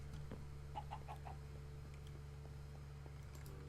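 Minecraft chickens give a short run of four quick, faint clucks over a steady low background drone, then stay mostly quiet.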